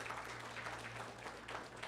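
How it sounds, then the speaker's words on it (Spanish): Church congregation clapping throughout, a soft, steady wash of applause heard at a distance over a constant low hum. "¿Alguien le puede dar un aplauso a la palabra de Dios?"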